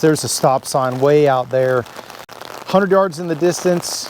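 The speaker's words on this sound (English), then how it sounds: "apologies for the rain noise" Steady rain falls outdoors, a constant hiss underneath someone talking close to the microphone.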